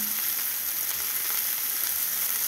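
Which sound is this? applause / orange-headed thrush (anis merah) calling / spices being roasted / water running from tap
spices being roasted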